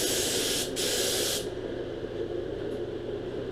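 Aerosol spray paint hissing as a coat goes onto the inside of a go-kart part, from a 5hp Manco kart: one loud, close burst with a brief break, stopping after about a second and a half and leaving a low room rumble.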